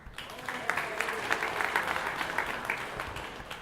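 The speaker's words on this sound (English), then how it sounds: "So, applause." Conference attendees at a DevOpsDays opening session applaud, a moderately faint, sustained patter of clapping from a large room lasting a few seconds.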